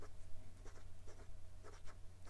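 A vintage Sheaffer Craftsman Touchdown fountain pen writing on paper, its nib giving soft, close scratchy strokes in short bursts with brief pauses, quiet and alone.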